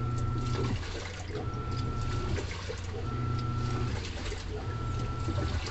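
Sneakers tumble in water inside a washing machine, making a steady, rhythmic churning and sloshing with a low mechanical hum underneath, close and continuous throughout.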